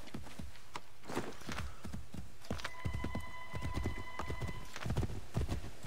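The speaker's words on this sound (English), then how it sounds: "I will ride this horse as far as I can." Horse hooves clip-clopping at a steady riding pace in Assassin's Creed 3, a close, rhythmic run of hoofbeats with a horse's whinny partway through over game ambience.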